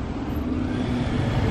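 An Aston Martin Vanquish S Volante drives past on a Monaco street, a steady low engine drone with traffic ambience, moderately loud and continuous without talk.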